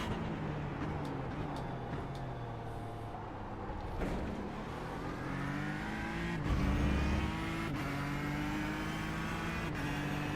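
A race car engine at Spa in the iRacing sim roars steadily and loud, its pitch climbing and shifting through gear changes for the whole stretch, with no voices.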